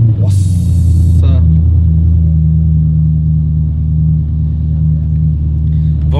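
A Porsche Panamera engine idles with a steady deep rumble while warming up, loud and close, with a brief hiss early on and occasional faint voices.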